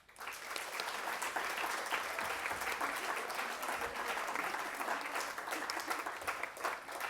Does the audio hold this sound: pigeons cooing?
no